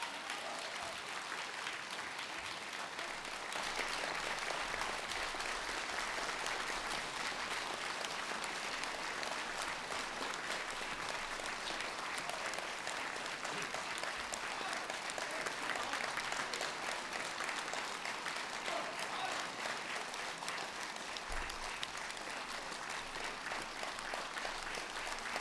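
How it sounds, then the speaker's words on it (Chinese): Warm, sustained applause from a theatre audience welcoming Kunqu opera artists on stage, a dense unbroken wash of clapping that holds steady at a distance for the full length without any voices. "让我们用最最热烈的掌声，请出所有的国宝级艺术家们"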